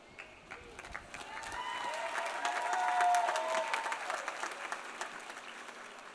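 Audience applause at the Eckerd College 2024 commencement ceremony, a broad wash of many hands clapping that swells toward the middle and stays steady, with a faint tonal line and some crowd noise underneath.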